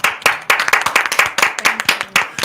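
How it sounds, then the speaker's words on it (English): One person clapping on a podcast, a run of sharp, close hand claps at an uneven, quick rhythm, with no voices. "So I'm gonna just clap it up for a minute"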